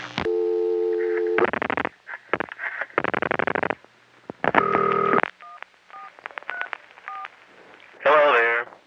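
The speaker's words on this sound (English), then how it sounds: "you can hear another caller's touch tones during the ring" Bursts of telephone touch tones over a ringing line, with short dial beeps and a busy-style signal, clear and close on the line.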